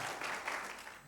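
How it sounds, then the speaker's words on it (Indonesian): A church congregation applauding a young man invited to stand during a Sunday service, a brief steady patter of clapping that fades toward the end. "kita beri tepuk tangan ya"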